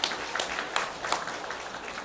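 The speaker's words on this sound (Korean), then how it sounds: "하나님께 영광의 박수 올려드리겠습니다." A church congregation applauds together, a short burst of steady clapping at moderate distance filling a large room.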